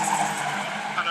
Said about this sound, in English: There's 3 cars in quick succession gone past here, the main stand.